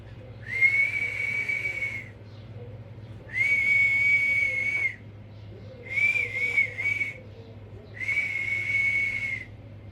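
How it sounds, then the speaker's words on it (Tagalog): A person whistles a steady high tone in four long phrases with short pauses between them, over a low constant hum in the background. "Ayun, sumisipol na nga ako."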